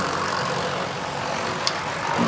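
A shaker motor running hard under extra weight, a steady low droning rumble with one brief sharp tick partway through.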